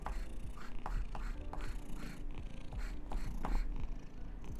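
A pet cat purrs in a low continuous rumble, close and soft, with small rustles over it and no talking.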